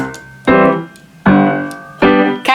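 Three piano octave-bass chords are played one after another without the damper pedal. Each one strikes loud and rings briefly before the next, giving a clipped, somewhat detached, ragtime-like rhythm.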